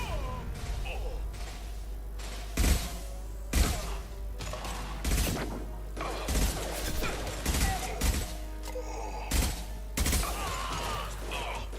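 Gunfire rings out in the Mass Effect 2 video game, with repeated sharp shots and short bursts in uneven clusters over a humming background, while voices talk in between.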